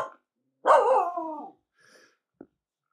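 A Finnish Spitz on a shoreline lets out one drawn-out, wavering yodel-like bark. A faint short yip and a sharp click follow in otherwise quiet surroundings.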